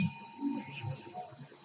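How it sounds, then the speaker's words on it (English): One bell ring marking the last minute of a debate speech sounds as a single bright ding that rings on and slowly fades, with faint voices murmuring underneath. "you will be given 1 bell like this"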